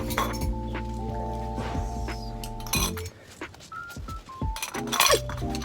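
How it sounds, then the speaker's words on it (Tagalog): Glasses and dishes clink and knock against each other during washing up at home, with scattered sharp clinks over a steady background hum. "syempre maghuhugas na tayo."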